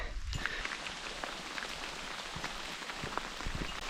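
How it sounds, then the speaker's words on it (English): Light rain patters on leaves and the ground in a dark forest beneath trees, a soft, steady hiss with scattered close drops and a faint footstep or two, no voices. "It's starting to rain a little bit, but being under these trees can help keep me dry"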